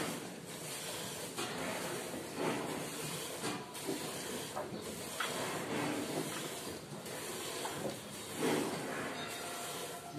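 A cow's teat being hand-milked after treatment for teat stenosis gives rhythmic hissing squirts of milk, roughly one per second, fairly close and steady with no talking.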